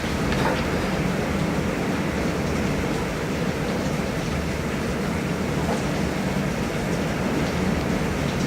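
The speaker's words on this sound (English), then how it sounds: "Now it is raining cats and dogs outside." Heavy rain pours steadily outside, a dense, unbroken hiss and rumble that stays loud and even throughout with no voices.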